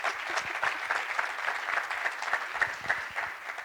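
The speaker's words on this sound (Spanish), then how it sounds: "Vamos a darle un aplauso" Dense, even applause from a conference audience at a corporate ethics and governance event, a continuous wash of many hands clapping at steady loudness throughout, with no voices over it.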